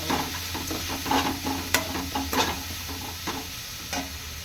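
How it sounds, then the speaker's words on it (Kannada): Mango chitranna ingredients fry in a pan with a soft, continuous sizzle as a spoon stirs them, knocking lightly at irregular intervals, close and moderately quiet with no speech. "ಸಿಂಪಲ್ಲೇ ಇಟ್ಬಿಟ್ಟು ಫ್ರೈ ಮಾಡ್ಕೊಳ್ಳೋಣ."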